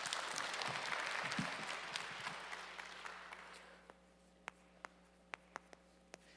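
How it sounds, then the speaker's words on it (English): An audience at a church gathering claps in applause that is fairly loud at first, then tapers off, leaving a few scattered faint claps near the end. "Let's greet him with a round of applause."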